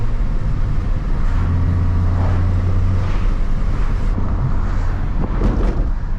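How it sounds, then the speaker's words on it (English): A Nissan 350Z with solid differential bushings drives at night, heard from inside as a loud steady drivetrain drone with a whining, gear-like hum over road and wind rumble. "I actually love how the solid diff bushings sound in this car. Kind of sounds like straight cut gears"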